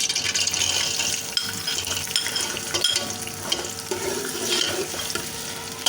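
Chopped onions hitting hot ghee in a pan and frying, a steady close sizzle with stirring scrapes and small clinks, loud and continuous with no talk.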